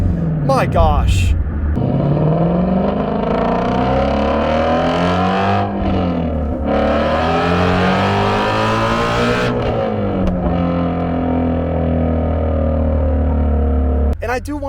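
A Shelby GT350 engine revs hard from inside the cabin, pitch sweeping up and down through gear shifts, loud and close, with sharp exhaust pops crackling at the start and end.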